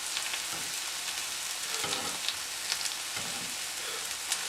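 Mushrooms frying in a pan alongside a New York steak, a steady close sizzle and crackle that fills the whole stretch with occasional soft stirring touches.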